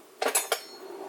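A container of peanut butter being opened for a sandwich on rye bread, heard as three quick, close plastic clicks and scrapes in a quiet room.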